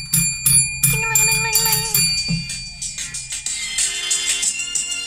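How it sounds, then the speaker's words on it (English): A bell rings repeatedly in bright, layered bursts on a radio show recording, with tones ringing over rhythmic thumping beats, loud and close, shifting into busier clattering textures toward the end. "Ring that bell."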